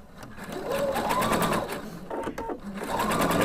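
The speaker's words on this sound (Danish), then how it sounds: "Og så syr jeg den anden side, syr jeg ned mod spidsen, ind på belægningen" A sewing machine runs steadily, stitching through fabric and a facing down toward the point of a slit, with a brief slowdown midway before the motor picks up again at close range.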